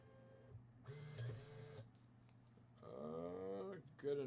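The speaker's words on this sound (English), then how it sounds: "I fucked up the printer." A printer whirs and clunks through short mechanical passes, close and moderately loud, with pauses between feeds.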